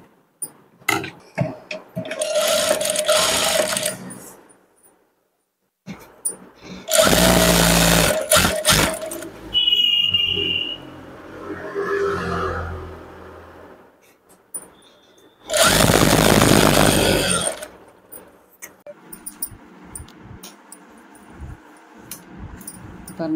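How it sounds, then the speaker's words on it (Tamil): A sewing machine stitches fabric during a tailoring class, running in three loud bursts of a few seconds each, separated by quieter pauses with handling noises. "தைக்க ஆரம்பிக்கலாம்."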